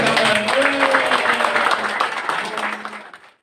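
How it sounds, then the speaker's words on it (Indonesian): A congregation applauds at a church wedding ceremony, brisk clapping with voices and a sustained musical tone underneath, gradually thinning and then cutting off. "Tepuk tangan."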